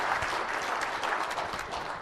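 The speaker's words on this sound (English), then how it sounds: "Give him a round of applause" Audience at a conference applauding a speaker, dense continuous clapping that stays steady and close throughout.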